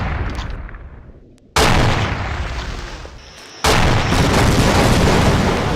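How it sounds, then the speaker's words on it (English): Heavy airstrike explosions from Half-Life: Opposing Force: two massive booms crash in one after another, loud and close, each leaving a long rumbling roar that thins out slowly. "Airstrike, come on"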